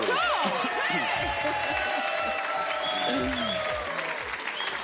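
Studio audience applauding on the French TV game show Mot de Passe, a steady wash of clapping that runs the whole time under a host's voice and bright jingle tones.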